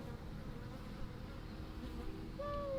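Honeybees on a hive frame hum in a dense, continuous drone that stays close and fairly loud, with a brief higher whine near the end.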